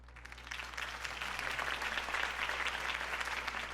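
Applause from a crowd after a campaign speech for Harvey Dent, a dense and steady clapping at moderate distance that swells slightly and holds over a low background hum.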